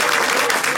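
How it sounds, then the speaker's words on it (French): Brief, dense applause from a gathered crowd for a club founder stepping down after 24 years, a steady wash of clapping without pause. "je pense qu'on peut vraiment l'applaudir"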